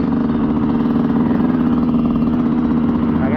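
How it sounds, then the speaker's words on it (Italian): Motocross bikes ride around a track at Dorno, heard as a steady, buzzing, mid-pitched engine drone with a pulsing texture, fairly loud and continuous and without talk. "stiamo entrando, non so se sentite le moto, ma siamo a Dorno"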